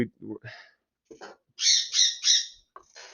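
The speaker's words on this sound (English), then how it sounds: "can you please get the birds?" Pet birds squawking indoors, several loud harsh shrieks in a quick series of three with shorter calls around them, close by, while a person talks in between.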